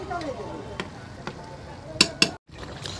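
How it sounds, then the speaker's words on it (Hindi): Onions soften in a hotel pan with masala for bhuna mutton, frying with a quiet sizzle under scattered stirring clinks, including two louder knocks and a brief drop to silence, with a voice faintly present. "ये देखिए हमारा प्याज लगभग गल चुका है, और ये कंटिन्यू लगभग आधे घंटे से ये फ्राई हो रहा है"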